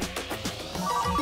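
A mobile phone rings with a short electronic tone that rises in pitch and grows steadily louder over about a second, with no one speaking.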